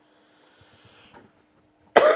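A single sharp cough lands near the end, close and loud, after a few soft mouth noises and near-silence, during a Quran tajweed recitation lesson.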